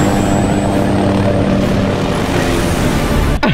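Steady, loud rotor-and-engine drone of a helicopter filling the clip, with a sharp cut at the very end.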